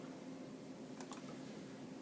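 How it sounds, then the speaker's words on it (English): A few quick computer keyboard keystrokes entering a patient's name, sparse soft clicks in a quiet room. "I typed in their name, FARLIS,"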